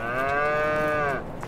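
A single cow in Farming Simulator 22 gives one clear, sustained moo of about a second over a faint background hum.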